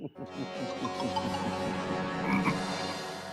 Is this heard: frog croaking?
yes